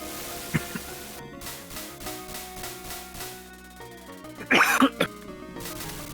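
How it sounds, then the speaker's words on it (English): A few sharp coughs and throat-clearing bursts ring out near the mic, with one louder cluster of coughs toward the end over a low steady hum. "everybody's also gonna hear me cough"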